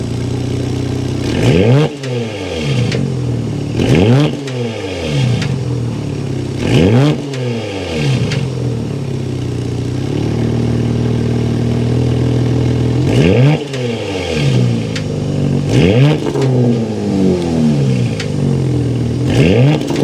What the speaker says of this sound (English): start it up, give it some revs so you can hear that exhaust note